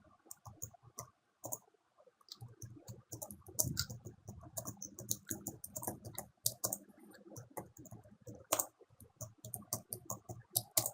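Keywords are typed on a computer keyboard in quick, uneven bursts of soft clicking key presses, close and fairly quiet, with brief pauses between runs.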